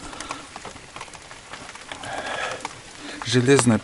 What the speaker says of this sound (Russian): Этот дождь может и не прекратиться